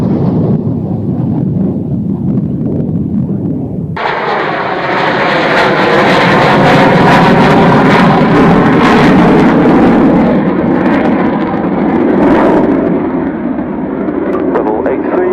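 A military jet climbs out of the Mach Loop in Wales, a loud, broad roaring rumble that swells in and sustains, heard over radio-style talk at the start.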